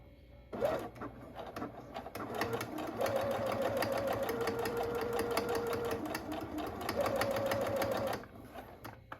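A sewing machine stitches fabric near the edge of a curved seam in a steady rapid run, with a fast needle rhythm and a whirring motor hum lasting about eight seconds before it stops.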